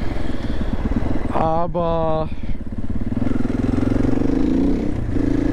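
Steady motorcycle engine drone while riding, loud and continuous throughout with wind rumble, and someone talking over it.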